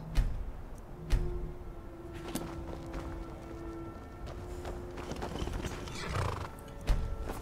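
A horse in Skyrim neighs in a long whinny while hooves clip-clop at intervals, with sharp thuds and clicks scattered through the close, moderate game soundscape.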